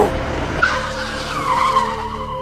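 A car skids to a sudden stop, its tires squealing in one continuous, loud screech that lasts a couple of seconds with no voices over it.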